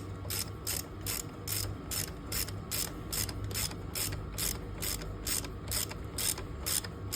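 A ratchet tightens a T30 bolt on a Can-Am 1000 motor with a steady, rapid train of close metallic clicks that runs evenly through the whole stretch, with no voices.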